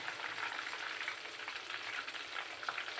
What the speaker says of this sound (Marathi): असं थोडंसं पाणी शिंपडलं की अगदी दाणेदार तूप तयार होतं